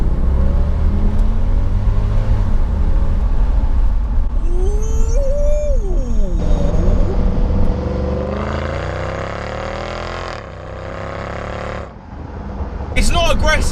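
A 2007 Mercedes CL63 coupe with a 6.2 litre V8, loud and heard from inside the cabin: a deep, steady rumble building into rising revs as the car speeds up, then easing off as it slows.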